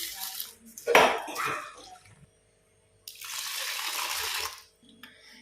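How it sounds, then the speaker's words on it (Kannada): Urad dal being rinsed in water in a kitchen: a burst of swishing, splashing water near the start, then a steady pouring or running-water wash for about a second and a half, with faint clinks of a vessel between. "ಉದ್ದಿನ ಬೇಳೆಯನ್ನು ಒಂದು 2 ಅಥವಾ 3 ಸಲ ವಾಶ್ ಮಾಡಿ ನೆನೆ ಹಾಕಲಿಕ್ಕೆ"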